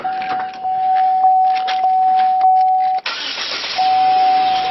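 A 2016 Chevrolet Sonic is started up after a thermostat replacement: a clicking crank gives way to the engine catching at about three seconds and settling into a steady idle, close by, alongside a constant electronic chime tone.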